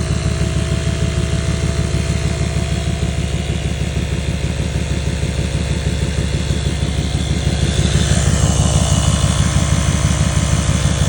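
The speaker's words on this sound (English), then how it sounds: "Let's see if this compressor works." A cheap $15 Walmart air compressor runs steadily as it inflates a Chevy Silverado truck tire, giving a loud, continuous motorized buzz with a fast pulsing rattle close by, slightly louder toward the end.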